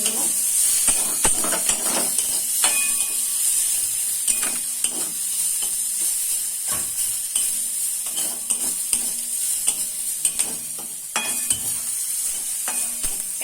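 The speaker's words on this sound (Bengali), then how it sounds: "চিংড়ি মাছটা আমি তেল ছাড়াই ভেজে নেব" Small shrimp dry-frying in a pan without oil, a loud continuous hiss and sizzle broken by frequent sharp stirring scrapes and taps of a utensil against the pan.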